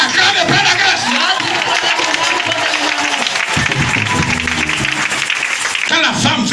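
At a church Easter 2021 gathering, a congregation applauds and cheers in a steady, noisy wash of clapping that runs under a preacher's loud voice.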